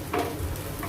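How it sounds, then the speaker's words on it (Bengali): Soya chunk cutlets sizzle in a pan over medium-low heat while being turned, a brief close stirring scrape over a steady frying hiss. "এটাকে একটু নাড়াচাড়া দিয়ে নিচ্ছি।"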